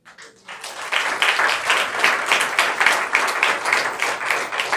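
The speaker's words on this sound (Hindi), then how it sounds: "ताली बजाएं।" Steady applause from a congregation at a Sunday church service in Jabalpur, many hands clapping together in a dense, continuous patter that swells after a brief quiet start and holds fairly loud throughout.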